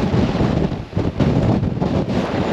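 Strong wind blows across a bridge during a rainstorm with flooding below, roaring steadily and buffeting the microphone in dense, continuous gusts with no voices.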